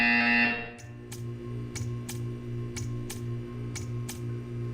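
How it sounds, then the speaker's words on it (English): A repeating electronic buzzer from the video game Portal 2 sounds about eight times in a steady rhythm, each short, clear burst standing out over a low mechanical hum after a louder tone fades. "You will hear a buzzer. When you hear the buzzer, stare at the art."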